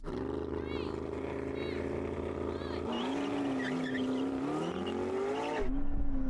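A McLaren P1, LaFerrari and Porsche 918 accelerate hard in a drag race, their engines roaring and rising in pitch through gear changes, loud and continuous, with a voice talking over them and a sharp cut near the end.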